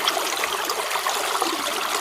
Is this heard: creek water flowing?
yes